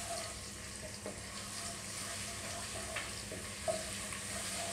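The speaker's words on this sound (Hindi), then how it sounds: "और इसको थोड़ा सा भून लेंगे।" Garlic and ginger paste fries in oil, a soft continuous sizzle with occasional faint stirring scrapes, steady and fairly quiet throughout with no voices.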